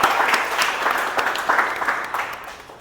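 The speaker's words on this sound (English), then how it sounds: "So let's give a good round of applause to Arun." Applause from an audience at a Toastmasters club meeting, a dense wash of many hands clapping steadily for about three seconds at fairly close range, with no speech over it.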